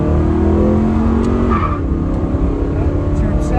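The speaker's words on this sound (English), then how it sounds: "Stab it, you hear it, it goes. Down in the first and just give it a go." A 1967 Pontiac GTO, running a little hot, accelerates hard in first gear. The loud, close engine roar holds a steady rising tone, then briefly drops in pitch partway through.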